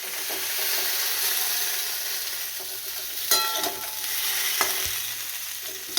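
Steady close sizzle of pointed gourd frying in oil in a wok for a paneer dish, with a few sharp spatula scrapes and knocks toward the end and no voices.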